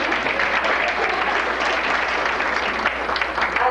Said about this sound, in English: I like when we applaud Becky for her daughter's work